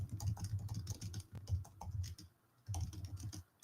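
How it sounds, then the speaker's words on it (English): Quick keystrokes clatter on a computer keyboard nearby, coming in bursts of rapid taps with a short pause before the typing resumes. "I'm typing it so I can remember it for later."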